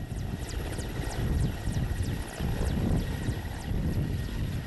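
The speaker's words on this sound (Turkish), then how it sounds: "Mürettebatı alarak kalkış yapan helikopter kısa bir süre havada kaldı." Steady whirring rotor thump of a helicopter taking off from a beach with a loud engine roar, continuous and fairly close, no voices.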